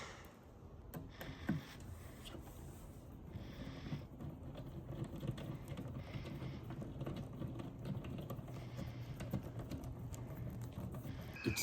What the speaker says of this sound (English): I'm going to use that screwdriver to assemble this display cabinet